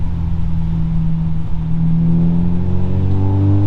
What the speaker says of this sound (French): On entend bien la caisse de résonance là avec le moteur et la ligne d'échappement.